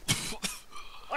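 A person coughs twice in quick succession, harsh and close, followed by quieter breathy throat noise trailing off.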